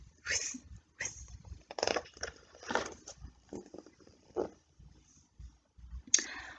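A voice imitates a rotating lawn sprinkler with a series of breathy, whispered 'whisk' bursts, repeated at an uneven rhythm, close and fairly soft.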